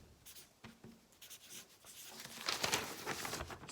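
A pen or marker writes out a time during a math lesson, with quiet scratchy strokes and small taps building into a busier stretch of writing close to the microphone.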